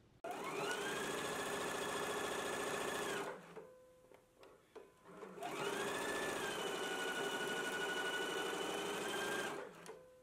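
A sewing machine stitches a casing in place on a skirt seam, its motor whirring loud and steady in two long runs separated by a brief pause with small handling clicks.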